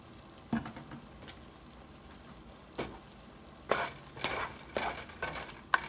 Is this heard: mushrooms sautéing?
yes